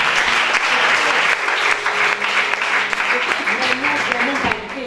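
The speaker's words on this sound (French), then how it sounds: "Donc, acclame Jésus" Church congregation applauding and cheering for Jesus, sustained loud clapping from a crowd with a voice speaking over it throughout.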